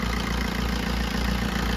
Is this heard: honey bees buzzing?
no